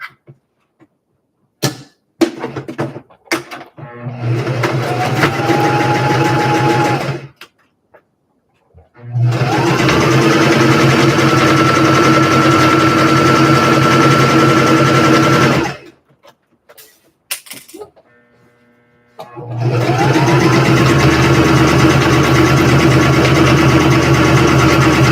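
A sewing machine stitches the front of a vest, running in three long steady bursts with a whirring hum, separated by brief pauses with small clicks and handling noises.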